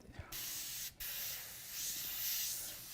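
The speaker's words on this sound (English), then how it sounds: "I spray and let it make the paint come out a little darker and solid" Hissing bursts of a paint spray gun, a short spray, a brief pause, then a long steady spray that swells slightly.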